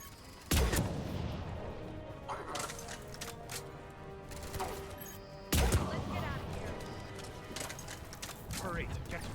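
Gunfire in a video game: two heavy bursts of shots, roughly five seconds apart, each followed by a long noisy tail of rattling game sound with voices in the background.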